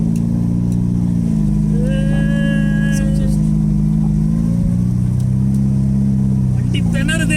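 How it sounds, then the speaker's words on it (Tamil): A Premier Padmini car with a modified muffler drives off-road, its engine droning loud and steady up close and rising into revs, with a person talking over it. "Padmini of road driving first time."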